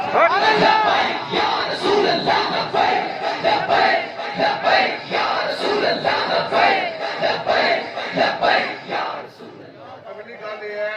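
A large crowd at a religious conference in Rawalpindi chants slogans in loud, rhythmic unison, voices rising and falling in repeated waves for about nine seconds before fading, with a lone voice briefly audible at the end.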